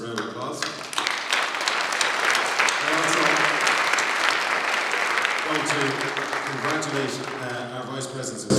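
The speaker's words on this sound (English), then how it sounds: "I think they deserve a massive round of applause." A congress audience breaks into sustained, fairly close applause, a dense patter of clapping that holds steady for several seconds, with voices talking underneath and the clapping thinning toward the end.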